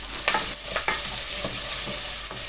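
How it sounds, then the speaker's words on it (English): Onion and chilli sizzle loudly and steadily in a hot pan up close, with occasional stirring scrapes breaking through the constant crackle. "I'm going to pop the onion and the chilli in, and then we're going to fry these off"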